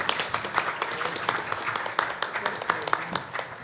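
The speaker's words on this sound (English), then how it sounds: "let's give him a round of applause for having come and presented" An audience applauds a presenter at a development forum, scattered individual claps forming a steady, moderately loud round of clapping throughout.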